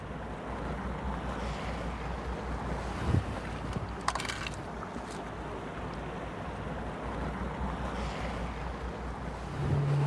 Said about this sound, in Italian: condizioni di mare un po' impegnative, un'onda piuttosto ripida, secca, alta non più di un metro